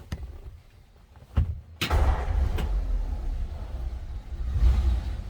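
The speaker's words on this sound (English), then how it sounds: "Let's go ahead and fire this up so you can hear it run." A 1946 Ford Super Deluxe Woody Wagon's flathead engine cranks with a few sharp clunks, then catches and settles into a steady, low rumbling idle, loud and close.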